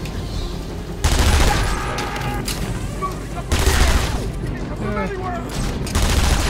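Gunfire in Batman: Arkham Asylum bursts out in loud rattling volleys, three heavy bursts separated by brief lulls, with a voice talking over parts of the shooting.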